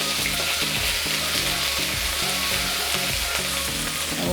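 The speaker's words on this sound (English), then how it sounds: "Now I'm going to add this into the oil." Paste of chili, garlic, onion and turmeric sizzles steadily in hot oil, a dense continuous frying crackle close up with faint stirring and no voices.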